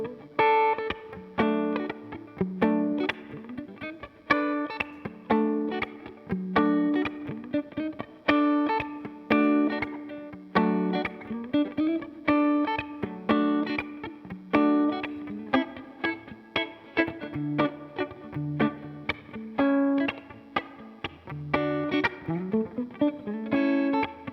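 Electric guitar through a Ross compressor, with a compressed, sustained tone, plays a steady rhythmic pattern of chords and single notes, close and even in level, with light reverb.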